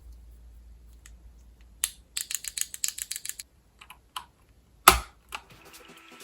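Typing on a Keychron K10 wireless hot-swap mechanical keyboard fitted with Keychron red switches: a quick burst of close, crisp keystrokes, then a few scattered key presses and one sharper, louder clack.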